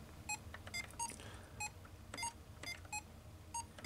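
Repeated short electronic beeps from a Mario's Cement Factory tabletop Game & Watch handheld, sounding in a steady irregular series of crisp high tones, near and clear with no voices.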